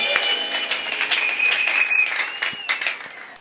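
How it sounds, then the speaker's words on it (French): A church congregation applauds loudly for the king of kings in dense, continuous clapping, with a few louder individual claps and faint voices mixed in, tapering slightly at the end. "On acclame très fort pour le roi des rois."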